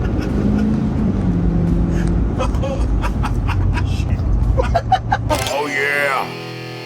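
A 650-horsepower 6.7 Powerstroke diesel truck in four-wheel drive accelerates hard, its engine rumbling loudly from close range with people talking and exclaiming over it, before the noise drops away near the end.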